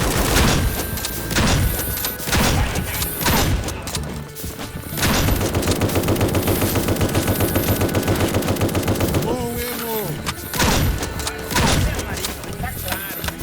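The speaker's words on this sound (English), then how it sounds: "Thank God for shotguns." Gunfire in the video game A.W.O.L., shotgun blasts mixed with rapid automatic bursts, is loud and dense with repeated heavy shots and a sustained rattling volley in the middle, and a voice sounds briefly among them.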